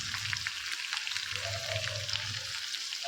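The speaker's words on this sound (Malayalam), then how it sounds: "നമുക്ക് ഇളക്കി വേവിക്കാം." Chopped ginger sizzling and frying in a hot pan while being stirred, with a steady crackling hiss and the soft scrape of stirring, close and continuous throughout.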